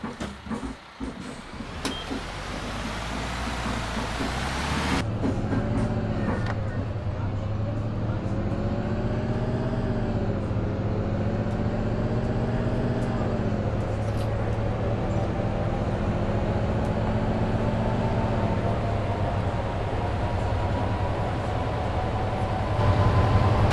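A Mercedes-Benz Citaro C2 Hartmann articulated city bus on line 99 in Berlin-Spandau drives along with a steady engine drone and rising and falling gear whine, sustained and fairly loud from the cabin, with someone briefly speaking over it.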